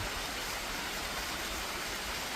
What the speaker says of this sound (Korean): 물이 뭐 제법 많이 흘러내리네